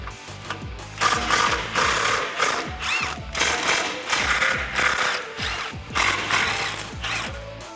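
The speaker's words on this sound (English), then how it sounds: "15 millimeter socket and let's get these removed" A ratchet fitted with a 15 mm socket works loose the front bumper bolts on a 2016-2018 Chevrolet Silverado 1500, with quick repeated clicking strokes in uneven bursts, close and fairly loud.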